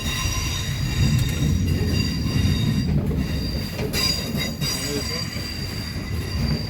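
Another train departs nearby on a UK line, a steady rumbling roll of wheels with faint squeals and clicks, heard from inside a Southeastern Class 376 carriage at moderate level.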